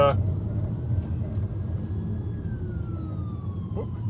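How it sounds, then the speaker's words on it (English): A low, slowly descending ambulance growler siren tone rises over heavy road rumble and engine noise, fairly faint and drawn out. "here comes an ambulance, and it's still really nice. It's got one of those weird growler sirens"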